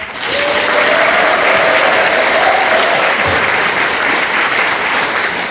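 Sustained audience applause fills a hall at a citizens' forum on building a Busan independence movement memorial park and history museum, steady and loud throughout with no pauses.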